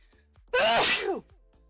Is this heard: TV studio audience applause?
no